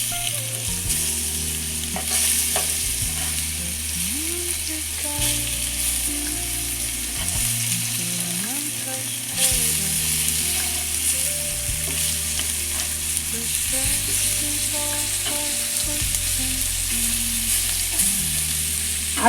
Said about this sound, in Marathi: हे आपली मासे आता फ्राय करून पूर्ण झालेले